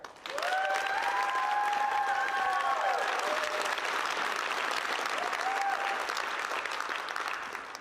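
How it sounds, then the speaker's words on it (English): Graduation crowd at a law school commencement applauding and cheering for a graduate, steady clapping with a few high whistles and whoops near the start, continuing strong for several seconds before thinning slightly. "You have a big cheering section."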